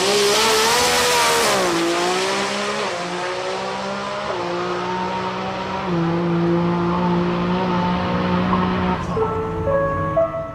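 A rear-wheel-drive Nissan R33 drag car accelerating hard at a drag strip, its loud engine note climbing in pitch through successive gear changes with a continuous roar.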